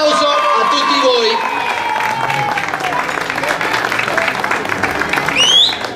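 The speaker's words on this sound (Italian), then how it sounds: "Un applauso a tutti voi." A crowd claps at a race trophy award ceremony, a loud, continuous burst of applause with scattered voices and cheers mixed in, swelling briefly near the end.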